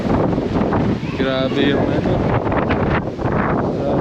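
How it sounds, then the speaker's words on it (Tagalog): Strong cold wind buffets the microphone at an open hilltop park in Tagaytay City, a steady roaring rush throughout while a person speaks briefly. "grabe dito hangin."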